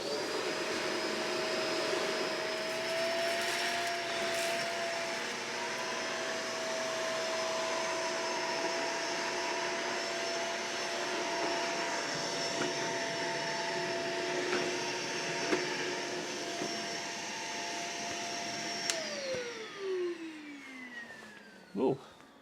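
A Shark vacuum cleaner runs with a steady high whine on a hard floor while sucking up baking soda, then powers down with a falling pitch near the end.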